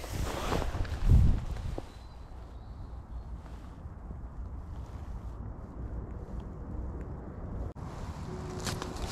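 Wind gusts across a canal bank during a fishing match, a loud buffet at the start easing into a steady low rush of moving air with faint rustling.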